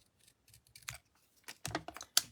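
Scissors trimming a piece of cardstock for a simple beige card, with a series of short, crisp snips and paper scrapes building to a sharp final cut, close and alone.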